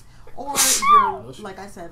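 A person sneezes once, a loud, sharp burst in the middle of conversation, with people talking before and after it.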